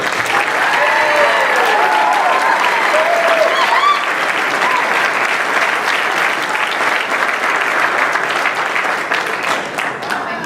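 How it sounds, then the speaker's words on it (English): A graduation ceremony audience gives graduates a sustained round of loud, dense applause that carries on steadily, with some voices and cheers mixed in. "how about one more round of applause for our graduates?"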